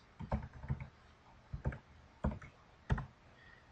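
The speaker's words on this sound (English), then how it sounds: "and then you just need to confirm it by typing it in again." An email address typed on a computer keyboard while registering an account: several short clusters of key clicks with pauses between them, close and fairly soft, no talk.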